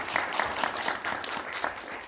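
An audience at a Korean panel discussion applauds a professor being introduced, a short burst of moderately loud clapping from a smallish crowd, sustained and even.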